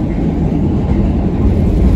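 Subway train running toward Coney Island in Brooklyn, a steady dense rumble and rail roar with no distinct breaks, loud and close throughout.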